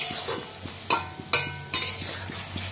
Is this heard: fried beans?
yes